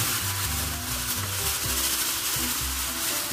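Pork stir-fry for Korean jeyuk-bokkeum sizzling steadily in a hot pan with vegetables just added, a continuous bright hiss with low scraping and stirring thumps underneath, close and fairly loud, no voices.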